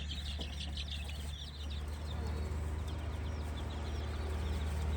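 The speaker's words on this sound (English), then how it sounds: "If you look at these chicks, you'll see all of them scratching around, pecking." Baby chicks scratch and peck around their brooder, with high chirps and cheeps scattered through a steady low hum and soft scuffling, close and continuous.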